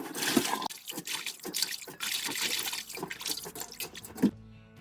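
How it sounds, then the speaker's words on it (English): Winter cabbage leaves are washed in water, giving continuous splashing, sloshing and dripping close by, with a soft clunk near the end. "I'll wash it about 3 times."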